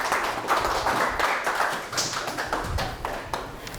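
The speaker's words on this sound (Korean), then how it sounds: "박수 쳐주세요" Audience applause at a Korean book concert, a crowd clapping in quick, uneven bursts with a few heavier thumps mixed in, close and fairly loud.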